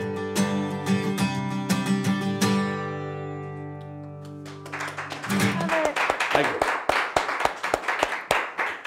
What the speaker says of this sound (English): Doesn't it feel good hearing applause?